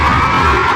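A huge night-time stadium crowd at a Pakistan Super League cricket match between Lahore and Multan roars and cheers after a six, a loud continuous wall of voices.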